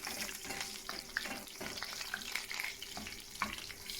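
Garlic sautés quietly in a pan, a soft low sizzle with occasional stirring clicks and a faint watery crackle, no one speaking.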